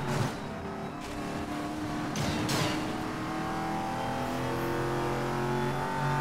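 Mercedes-Benz SL65 AMG engine in the Need for Speed video game, a continuous loud drone with rising and falling revs and brief harsh bursts, no talking.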